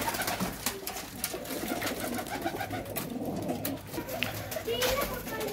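Pigeons kept by a hobbyist coo steadily at close range amid scattered chirps and rustling, with faint background voices.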